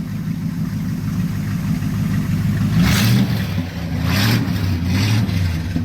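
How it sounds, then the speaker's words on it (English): A 1979 Corvette's 350 small-block V8 running with the mufflers removed, a loud, rough, throaty idle that swells into two short revs before settling back. "give her a little rev and we'll shut her down"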